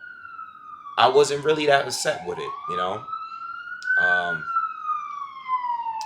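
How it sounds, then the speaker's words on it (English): Police sirens wail outside with a sweeping, rising and falling tone that carries steadily throughout, loud and continuous beneath someone talking close by. "Sorry for the police sirens."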